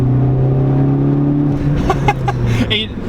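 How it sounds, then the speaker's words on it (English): A modified 2016 Ford Focus ST engine drones loudly and steadily up close, then eases off with a brief hiss near the end, likely from the blow-off valve, while someone talks over it. "You can hear the blow-off valve a little bit. It's not that loud, but it's probably what you're hearing."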